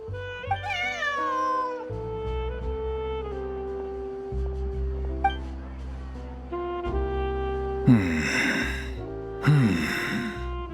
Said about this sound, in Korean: 제 친구 고양이가 맞다니까요